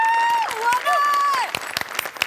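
Audience applause on the Marathi comedy show Maharashtrachi HasyaJatra, a short burst of clapping that rises as a voice finishes speaking, fairly loud and close.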